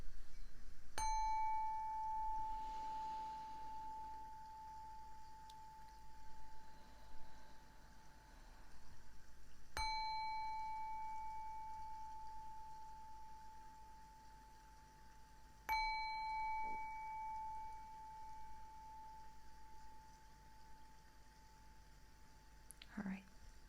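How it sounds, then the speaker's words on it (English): A bell rings three times at spaced intervals, each a clear ding with a long ringing decay, heard over quiet low background hiss. "But I'm going to ring the bell a couple times."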